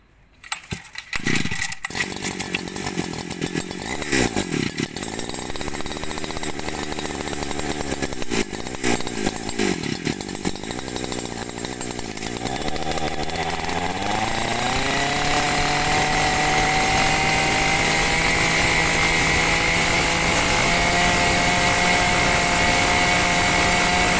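A used Japanese 40cc brush cutter engine with a 40 mm bore, a Robin NB40 type, sputters through a few pulls and rough catches, then settles into a loud, steady, buzzing high idle close by with no talking.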